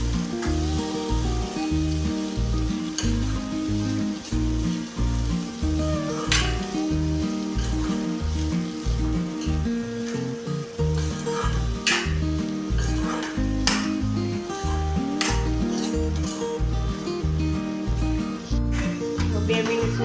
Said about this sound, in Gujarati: તો 2 મિનિટ સુધી આપણે હલાવતા રહીશું.